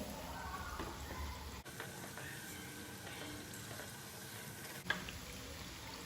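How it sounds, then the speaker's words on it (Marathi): Cabbage manchurian balls frying in oil over a raised gas flame give a soft, continuous bubbling sizzle, faint and steady, with a small clink near the end and no talk. "ह्याला सतत हलवायचं नाही ते जसे तळले जात आहे तसंच तळू द्यायचं"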